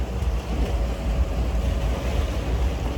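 Strong wind blows on the Goa seashore, buffeting the microphone as a constant low rumbling roar, with a wash of waves and surf beneath it; loud and steady, with no voices.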